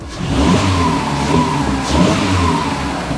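A VW Golf 4 with a 1.4i 16V petrol engine revs up and holds a steady mid-pitched drone, loud and close with slight rises and falls, and no voices.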